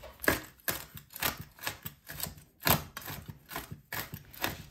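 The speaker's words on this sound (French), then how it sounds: "Hachez vos noix à nouveau après la caramélisation." A knife chopping caramelized nuts on a board, steady crisp rhythmic chops in close succession, each with a brittle crunchy crack, heard alone at close range.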